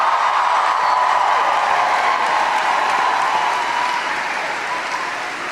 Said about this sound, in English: Give Tristan a huge round of applause.